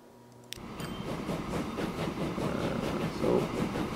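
A steam-era train from Transport Fever 2 set in 1850 rolls along after a sharp click, a continuous rumbling clatter that swells slightly and holds steady without speech.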